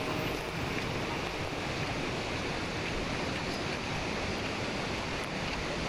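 Kawasan Falls in Cebu pours with a constant, dense roar of rushing water, steady and close throughout with no voices.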